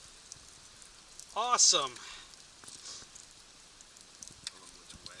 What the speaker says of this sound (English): And the rain's finally slowing down.